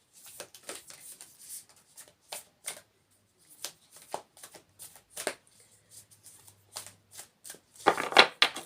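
Tarot cards shuffled by hand in short riffling bursts and soft flicks, close and quiet, with gaps between and a denser flurry near the end.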